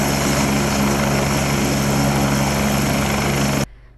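A Mersin Metropolitan Municipality helicopter flying nearby, a loud continuous rotor and engine drone with steady throbbing, cutting off abruptly near the end.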